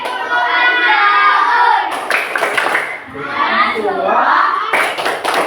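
A classroom of children performs the rhythmic Tepuk Al-Maun clap chant during an Islamic religious education lesson on Surah Al-Maun, with loud patterned claps alternating with sung and shouted young voices.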